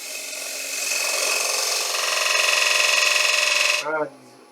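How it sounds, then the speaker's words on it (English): A small bowl gouge shaves the rim of a wooden bowl spinning on a lathe, giving a loud, continuous rasping hiss that stops abruptly, followed by a brief voice. "The rim, a little bit with the small bow gouge."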